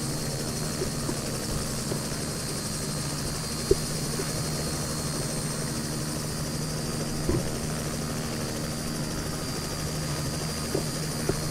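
Helicopter flying in a flight simulator game around an airport terminal and jet bridges, a steady rotor and engine drone holding at even loudness throughout, with a few faint clicks and no talking.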